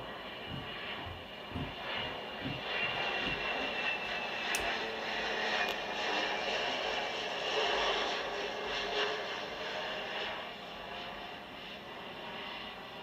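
USAF C-130 Hercules taking off at RAF Mildenhall, its turboprop engines droning at a moderate distance in a sustained roar that swells midway, with no talking.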